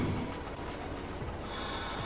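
Train braking in the game Train Driver 2: a continuous metallic rumble with a thin high squeal of the wheels, steady and fairly loud for about two seconds.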